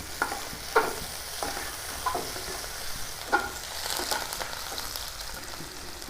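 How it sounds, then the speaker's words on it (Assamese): Onions frying in a pan on the stove give a steady close sizzle, with scattered scrapes and taps of a spoon stirring at irregular intervals and no talk over them. "অলপ পিঁয়াজ দিলোঁ। এতিয়া মই ৰঙচুৱা হোৱালৈ ভাজি ল'ম।"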